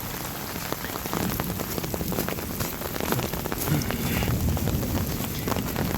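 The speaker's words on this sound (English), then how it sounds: "Haven't seen rain like this." Heavy rain pours down steadily outdoors over a permaculture property with swales and ponds, a dense, loud hiss of drops pattering on surfaces with light wind buffeting the microphone throughout.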